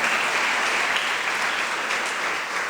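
Church congregation clapping in worship, a dense, steady wash of applause from a large crowd filling the room at even volume throughout, with no talk over it.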